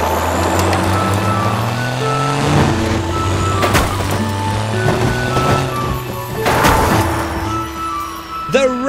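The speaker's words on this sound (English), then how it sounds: "The red monster truck." A revving monster truck engine roars continuously and close, its pitch climbing and falling through repeated gear shifts, with clanks and bangs scattered throughout.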